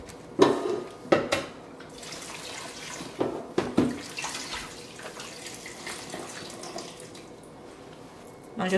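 Water poured into a cooking pot to rinse it while making pineapple bissap, with splashing and clinks of metal against the pot in a few sharp bursts over a steady running-water wash.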